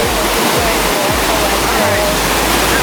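River water rushing steadily at a riverside, a loud, constant broadband roar like a small cascade, with low thumps of handling noise near the microphone.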